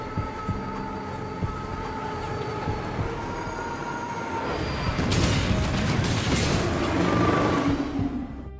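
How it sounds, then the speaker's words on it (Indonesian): A runaway train with no engineer in an action film rumbles heavily along the rails with sustained screeching wheel squeal, the roar swelling louder and denser toward the end. "Kereta tanpa masinis itu sudah sangatlah dekat lokasi penggelinciran."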